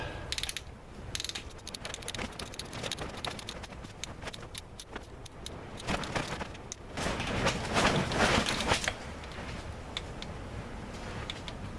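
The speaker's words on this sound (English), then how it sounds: "We're going to torque it to 13 foot-pounds." A click-type torque wrench tightens an oil pressure switch on a 1994 Honda Accord wagon engine, giving a long run of rapid close ratchet clicks that grow louder and denser in the middle before easing off.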